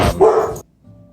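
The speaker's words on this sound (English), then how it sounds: "Dogs went crazy." A dog lets out a single loud, close bark that cuts off sharply, followed by near silence.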